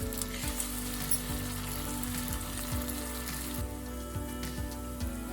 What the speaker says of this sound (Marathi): तेल तापलेले आपल्याला हे एक एक तेलात सोडून घ्यायचे आणि गुलाबी रंगावर तळून घ्यायचे